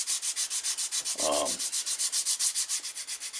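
Light hand sanding across a leather edge, a steady run of quick rhythmic rubbing strokes, close and clear, with one brief duller scrape partway through and no voices.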